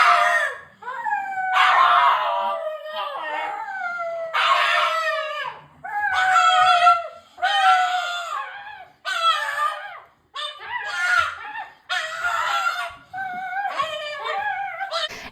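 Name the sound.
pug dog making weird noises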